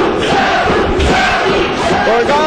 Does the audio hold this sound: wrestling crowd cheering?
yes